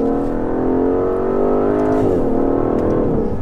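Aston Martin DBS accelerating hard, its engine note climbing steadily in a smooth, loud, continuous surge, then easing briefly before pulling again, with no talking.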